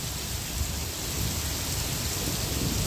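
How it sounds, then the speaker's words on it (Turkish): Heavy hail pours down during a storm with rain and wind, a dense continuous roar of pelting ice close by and steady throughout, with no voices. "Feci dolu yağıyor."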